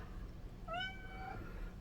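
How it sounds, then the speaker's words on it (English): A cat meows once in a rising then slowly falling call lasting about half a second, clear over a steady low room hum, with no talk. "Here comes the cat."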